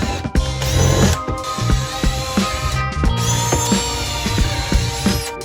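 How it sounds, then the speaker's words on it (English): A power drill drilling holes in a car dashboard whirs in short repeated bursts with ratcheting mechanical clicks, loud and close, pausing briefly between runs. "Let's drill these."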